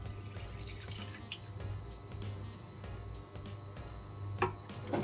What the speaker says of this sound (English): I'm using the same pot and I'm going to pour 300 millilitres of water